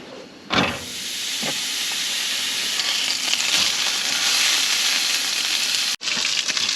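Hamburgers frying on a camping stove during winter truck camping, a steady loud sizzle and hiss that starts with a sharp burst and carries on evenly, cut by a brief drop near the end.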